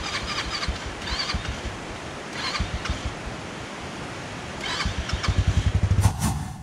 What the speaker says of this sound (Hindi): सो लेट्स सी कहाँ तक मैं अपनी बाइक को ले के जा सकता हूँ।